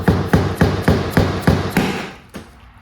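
A plastic trim clip on a BMW G80 M3 being pushed in with a small screwdriver, giving a series of about seven sharp, close tapping clicks in a steady rhythm that fade out toward the end.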